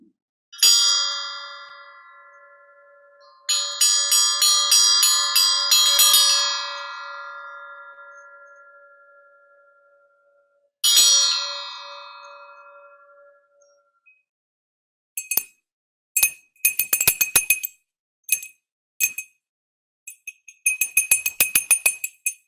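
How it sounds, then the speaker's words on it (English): Small metal bells tuned in microtonal intervals struck one after another, bright ringing tones that decay slowly, then a run of quicker, shorter clinking strikes near the end. "these are the bells"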